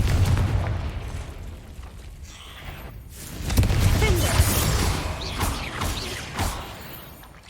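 Confringo fire spell explosion in the video game Hogwarts Legacy, fought against spiders: loud booming bursts and crashes over a rumbling game soundscape, with a heavy blast around the middle and further smaller impacts after.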